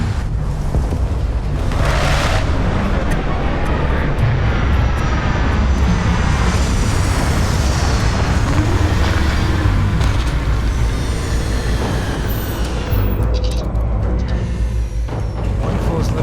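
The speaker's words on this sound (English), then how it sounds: "Good to go for landing." A spaceship touches down in the game Starfield with a loud, continuous roar of engines and rushing thrust that holds steady throughout, while a voice speaks over it.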